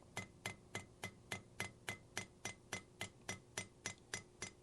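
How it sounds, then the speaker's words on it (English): Steady, evenly spaced hammer strikes from a smooth-faced, red-handled hammer peening pins on a custom knife handle, about fifteen sharp close metallic taps in quick regular rhythm, with no talking. "As we peen these pins down, we're closing up the gap so that when we solder, we'll have a very close, tight fit"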